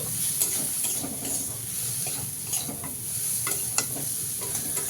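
A covered vegetable curry being stirred in a pan after the lid comes off, steady sizzle with repeated spatula scrapes and clinks, close and continuous.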